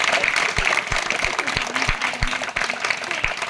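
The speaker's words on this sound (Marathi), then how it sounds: "पुन्हा एकदा आपण सर्वांनी जोराने टाळ्या वाजवून" An audience claps loudly at a school Diwali distribution event, dense continuous applause with a rhythmic low thumping beneath it throughout.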